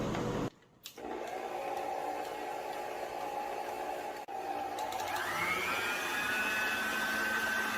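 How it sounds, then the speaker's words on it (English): A stand mixer runs on high speed, beating butter and sugar for an apple cinnamon crunch cake, a steady loud whir that briefly cuts out near the start and then rises in pitch as the motor speeds up. "Then I'm going to turn the mixer up to the highest setting and I'm going to mix this on high speed"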